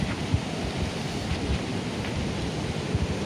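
Chalakudy river running high and fast after days of heavy rain near Athirappilly, a steady broad rushing roar of water, close and continuous with no voices.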